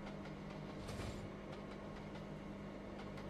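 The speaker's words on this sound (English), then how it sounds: "Brand new train. For Train Simulator 2." M7 electric multiple-unit train running on the Springfield Industrial line in Trainz Simulator 2, a steady low rumble and hum of rolling stock with faint rail clicks, continuous and moderately loud, no talking.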